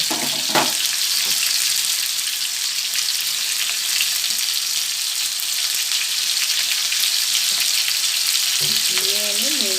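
Tomatoes with salt fry in a pan with a steady, close, loud sizzle throughout, with occasional stirring scrapes and a brief watery sound near the end.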